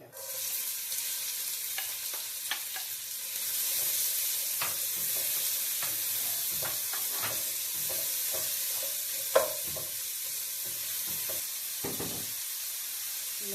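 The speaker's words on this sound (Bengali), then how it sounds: "তেল গরম হয়ে গেছে পেঁয়াজ দিলে" Onions fry in hot oil with a continuous bright sizzle and hiss, dotted with light scraping and clicking as they are stirred around the pan.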